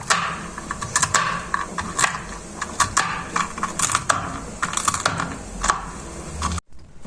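A knife chops walnuts on a cutting board in a series of quick, sharp, uneven knocks and taps, close and fairly loud, with no speech, ending in a brief pause and one softer final contact.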